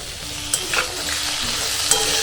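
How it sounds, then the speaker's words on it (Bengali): Potatoes stir-fried with spice powders, cumin and chopped tomato in a pan for aloo baingan, giving a steady sizzle with a few sharp scraping stirs near the start and end. "এবার মশলার সাথে সবকিছু ভালো করে একটু কষিয়ে নেবো আলুটা"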